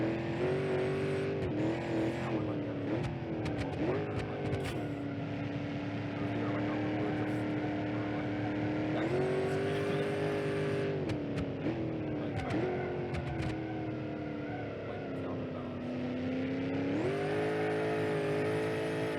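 A heavy muscle car engine in the BeamNG.drive driving game roars loudly and continuously, its pitch rising and dropping with repeated revving and shifts, with brief tire squeals and no voices.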